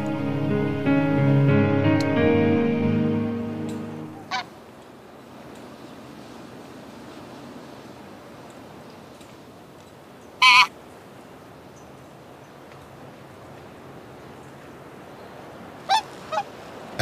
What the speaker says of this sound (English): As it happened, it was a bunch of swans that did decide.